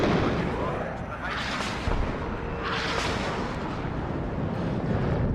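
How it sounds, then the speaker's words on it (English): Bombing strikes crash down in the WARNO war game as a loud, continuous rumble of blasts with two heavier surges of explosions layered over artillery fire, and a voice talks underneath. "It's always spectacular to watch those bombing strikes come down."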